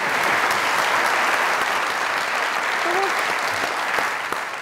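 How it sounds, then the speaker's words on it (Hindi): Studio audience applause at a comedy talk show, a steady dense wash of clapping that holds for several seconds and fades slightly at the end. "उसके लिए तालियां।"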